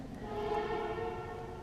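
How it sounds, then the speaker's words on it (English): A steady, sustained train horn blast with layered harmonic tones, held evenly throughout, sounding moderately distant. "Train horn."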